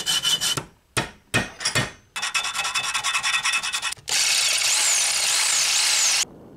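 Harsh rasping strokes of a file on scrap metal pipe, first in a few separate bursts, then a steady run of quick back-and-forth scraping, close up.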